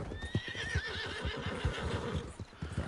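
Horse in a video game whinnying loudly over repeated clip-clop hoofbeats, a close high neigh at the start above a steady thudding gait.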